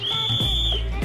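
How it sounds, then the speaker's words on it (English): A single sustained, shrill whistle blast rings out for about a second in a busy nasi kandar restaurant, loud and close over low crowd murmur. "they blow a whistle to let everyone know when the queue has cleared"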